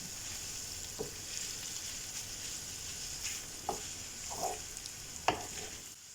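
Chicken sizzles in a pan with onion and garlic, a soft, steady frying hiss broken by a few light scrapes as it is stirred.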